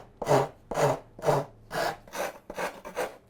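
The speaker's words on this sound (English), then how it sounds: "we always try to keep the rasp going so that the force is pushing the bottom into the sides" Seven rhythmic rasping strokes of a hand rasp shaping wood for a song stick, each a coarse scraping push of about a third of a second, evenly spaced, close and fairly loud with no speech.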